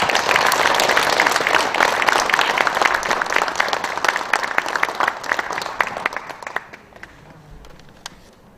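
Audience applauding at a book launch event in Gimje, with dense sustained clapping that holds for several seconds and then tapers off, leaving a few scattered claps at the end.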